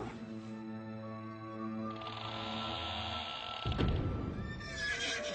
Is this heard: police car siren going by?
no